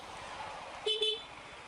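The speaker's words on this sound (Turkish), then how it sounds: "2 saattir korna çalıyor sana." A car horn gives two quick honks in a row against a low background of traffic rumble.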